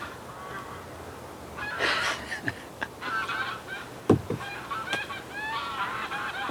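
Geese honk in scattered, repeated calls on the Norfolk Broads, some close and loud, others farther off, over a quiet outdoor background with a few sharp knocks.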